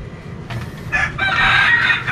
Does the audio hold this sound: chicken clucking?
yes